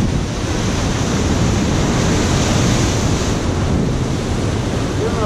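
Ocean waves of about five feet roll and break steadily on a shore, a loud, continuous wash of surf with wind buffeting the microphone throughout.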